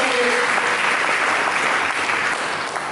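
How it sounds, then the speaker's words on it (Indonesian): Dense, steady applause from a church congregation during a Sunday sermon fills the space loudly for the full stretch, with a faint voice briefly audible early on. "Mari kita berikan tepuk tangan yang meriah"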